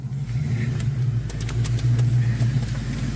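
A car with a 5.0 engine rumbles loudly and steadily up close, with a deep throbbing idle that swells slightly as it revs.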